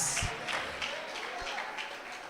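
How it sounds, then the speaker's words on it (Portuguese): A church congregation claps along during a service, producing a soft, steady wash of hand clapping heard at a distance, faint and continuous with no clear individual claps standing out. "Glorifica Jesus com as palmas"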